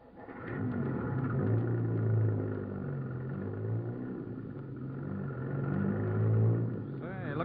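A bus engine in an old-time radio drama sound effect rumbles steadily as the bus speeds down a hill. The low engine drone swells and eases, with voices talking over it.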